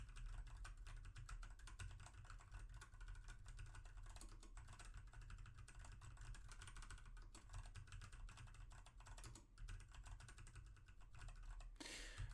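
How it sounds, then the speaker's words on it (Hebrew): Computer keyboard typing recorded through a Razer Seiren Mini microphone, the keyboard placed fairly far from the mic on a desk; dense, steady clicking of keys continues throughout without pause or speech. "וככה נשמע את המקלדת בזמן הקלדה."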